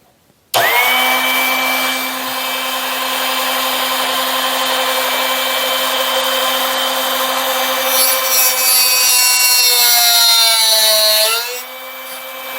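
A Drill Doctor grinding wheel sharpens a drill bit, a loud, steady motor whine with high grinding hiss as the bit is pushed in, the pitch shifting near the end as it winds down.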